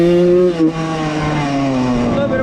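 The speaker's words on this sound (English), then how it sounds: "that's like pretty much rolling burnout right there" A 1995 Suzuki RM125 two-stroke motorcycle doing a rolling burnout, its engine note holding a loud steady drone with a brief dip, close by, with someone talking over it.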